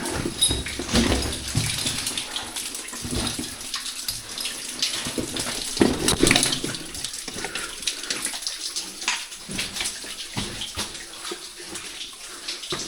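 Water drips and splashes steadily in an underground mine among forgotten workings beside an open stope in Wales, with a continuous wet wash broken by louder splashes close by and no talking.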